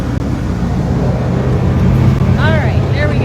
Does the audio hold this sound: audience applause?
no